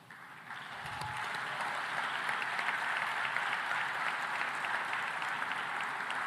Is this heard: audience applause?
yes